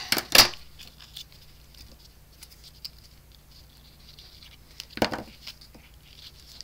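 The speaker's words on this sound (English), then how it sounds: "So I'm just going to snip it off." Scissors snip through card stock while an accordion spider card is made, with two crisp cuts, one at the start and another near the end, and quiet rustling of paper between them.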